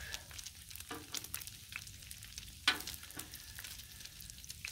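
Bacon sizzles on a Blackstone flat-top griddle with a steady, moderately quiet frying hiss, broken by a few small pops and one sharper crackle partway through.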